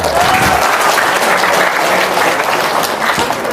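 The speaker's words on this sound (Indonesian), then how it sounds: "Tepuk tangan dong." Audience applause fills the space, a loud continuous wash of many hands clapping at an even level, with a faint vocal note near the start.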